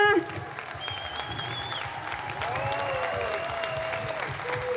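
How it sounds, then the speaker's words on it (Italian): Outdoor crowd at a live wind band concert in a town square claps steadily in a dense, sustained wash of applause, with a few faint whistles cutting above it. "Glielo facciamo un altro applauso ad Aurora Wind Band"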